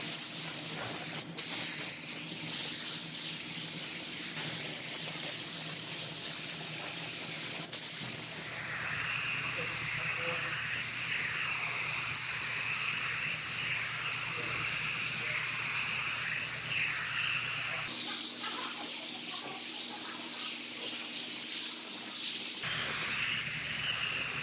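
A spray gun applies epoxy primer to a Toyota RAV4 lift gate panel. It gives a steady, loud hiss that runs continuously, with brief shifts in tone as the gun passes, and no talking.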